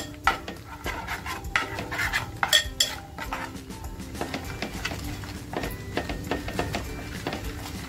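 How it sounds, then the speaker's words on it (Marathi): Homemade masala frying in oil in a pan for mutton rassa, with repeated metallic scrapes and clinks of a spoon stirring against the pan in an irregular rhythm, close up, no voices. "घरगुती मसाला असा छान फ्राय करून घेते तेलामध्ये."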